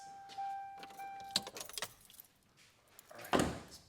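Car keys jangle in a brief cluster of metallic clinks near a 1999 Toyota Tacoma, followed by a louder thump like a door, with steady background hiss.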